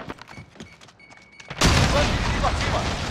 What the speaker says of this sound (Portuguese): Aproveitar essa explosão